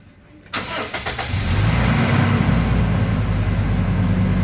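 Toyota Innova engine cranking briefly and catching, then settling into a steady, loud, close idle that continues to the end.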